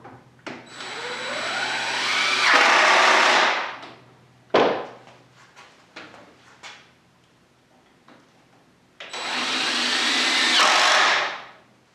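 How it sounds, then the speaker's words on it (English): A power drill bores holes in a wooden drawer during cabinet building, whining in two sustained bursts with rising pitch, separated by clicks and knocks as the workpiece is handled, close and loud. "And drill in the holes."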